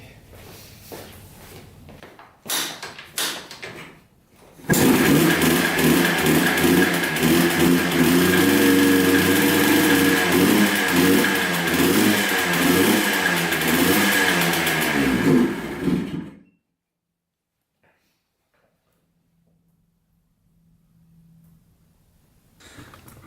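Sport quad engine, a Yamaha Blaster or Arctic Cat DVX 400 under repair with a suspected fuel or spark fault, coughs and sputters a few times, then roars into loud, uneven revving for about ten seconds before cutting out to near silence.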